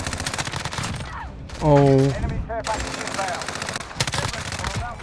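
Rapid sustained fire from an M13 rifle in Call of Duty Modern Warfare, dense automatic bursts that are loud and close, broken by a short pause with a brief spoken exclamation.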